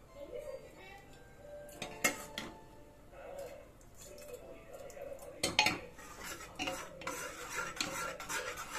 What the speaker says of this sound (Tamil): நல்லா கலக்கிக்கலாம்.